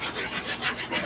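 A wet, soft-bristled brush scrubs a suede shoe in quick back-and-forth strokes, a soft rhythmic rubbing swish repeated several times up close.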